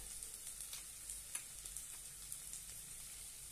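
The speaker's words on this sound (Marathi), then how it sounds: "आणि छानपैकी परतून घेऊया।" Vegetables sauté in a pan for a black-eyed pea, eggplant and potato curry, a soft, steady sizzle with a few faint spatters and light stirring clicks, quiet and alone.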